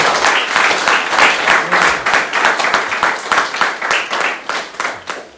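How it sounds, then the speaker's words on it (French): A church congregation at a Sunday service claps together in a fast, steady rhythm, loud and close, with a few voices mixed into the applause. "Applaudissons pour le gloire de notre Seigneur."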